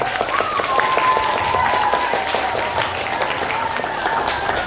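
Classroom of high school students applauding together, a steady dense clapping that fills the room, with a few voices mixed in.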